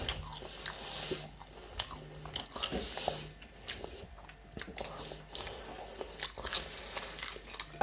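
Crisp crunching and biting on air-fried potato peelings, close to the mic, with irregular bursts of chewing spread over several seconds and no talk.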